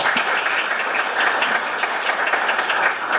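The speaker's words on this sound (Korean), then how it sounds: "마찬가지로 큰 박수로 환영해 주십시오" An audience at a Korean policy forum on retirement pensions for social workers claps to welcome a speaker, dense sustained applause from many hands at a steady level.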